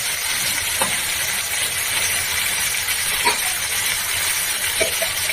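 Potatoes frying in a pan for kadaishutir kalia, a steady loud sizzle and hiss throughout with a few soft clicks of stirring.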